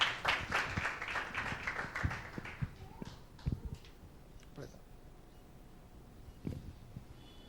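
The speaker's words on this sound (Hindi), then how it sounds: "आइए एक जोरदार ताली देंगे परमेश्वर के नाम की महिमा के लिए" A church congregation bursts into loud applause that fades over a few seconds into scattered claps and room noise, with someone speaking over the tail.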